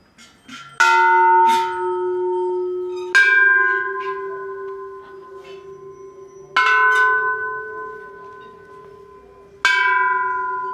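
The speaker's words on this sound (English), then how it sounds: "Lots of bells." Bells ring inside Doi Kham temple in Chiang Mai, four loud sharp strikes spaced a few seconds apart, each leaving a long shimmering hum that decays slowly into the next, with no talking.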